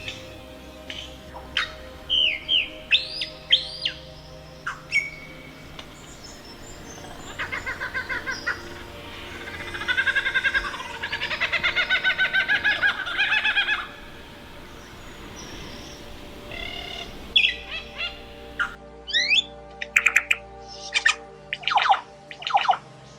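A superb lyrebird in Australian bush runs through mimicked calls of other birds: varied whistles, squawks and chattering phrases in quick bursts, with a dense stretch of rapid trills midway, close and clear throughout.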